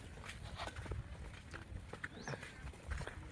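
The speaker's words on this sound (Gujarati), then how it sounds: "જો રંજીત ઘોડો હાઈ રહ્યો હે ને બાકી ઘોડો છે" A horse walks along with a steady clip-clop of hooves, moderately close, its uneven footfalls repeating over a low background rumble with no talk.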